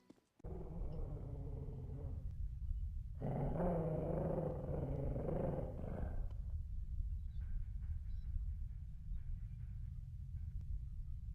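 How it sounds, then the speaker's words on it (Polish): A dog in the video game CS:GO growls at a door in a low, rumbling, sustained snarl that swells louder for a few seconds midway before settling back, with barking not clearly distinct. "pies, który szczeka, gdy podejdziemy do drzwi"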